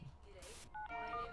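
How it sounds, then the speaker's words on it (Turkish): Electronic telephone tones in the children's horror video game Amanda the Adventurer: a noisy burst, then steady ringing tones that rise and hold, with no speech over them. "Telefon konuşuyor, ne oluyor?"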